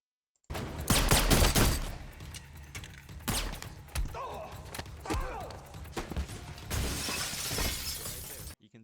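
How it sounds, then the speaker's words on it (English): In an action film scene, a glass window pane bursts loudly with a sharp crash as a body is thrown through it, followed by scattered tinkling shards, thumps and further crashing debris over several seconds. "breaks a glass pane by just throwing a body onto it"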